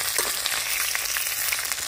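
Pieces of katla fish fry in hot oil with a dense, steady sizzle and crackle that holds at an even loudness throughout, close by and with no voices.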